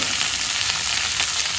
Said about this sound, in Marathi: थोडंसं भाजून घेऊ आपण हे चांगलं